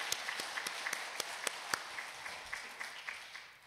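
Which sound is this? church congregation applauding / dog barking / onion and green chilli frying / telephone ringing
church congregation applauding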